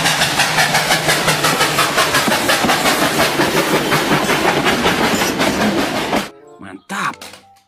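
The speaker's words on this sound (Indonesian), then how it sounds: "Wow, yang ini kereta api." A train rumbles and clatters past close by for about six seconds, rhythmic clickety-clack, then cuts off to quieter sounds.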